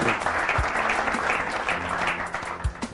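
A church congregation applauds warmly, a dense, continuous clatter of many hands at middle distance with a few louder claps standing out.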